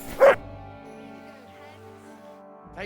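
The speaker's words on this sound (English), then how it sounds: "You silly doggy." A dog in the video game Kingdom Come: Deliverance 2 lets out a single short bark near the start, followed by quiet ambience, with a faint sound returning at the very end.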